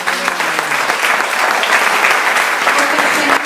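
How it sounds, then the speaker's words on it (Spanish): Church congregation applauding, dense continuous loud clapping from many hands nearby for the whole stretch, with a brief voice at the start. "le va a brindar otro aplauso al Señor"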